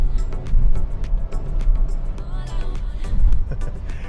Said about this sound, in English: That's the sound of the plastic on top of the vehicle right now.